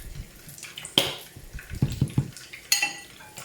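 A spoon clinks and scrapes against a bowl while mashing a tuna and shrimp filling, a few sharp knocks and short scraping strokes, close and fairly quiet.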